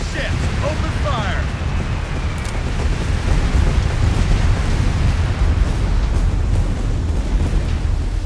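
Naval ship bombardment in Company of Heroes 3, a continuous heavy rumble of distant explosions and rolling blasts with a brief higher whine early on, loud and sustained throughout.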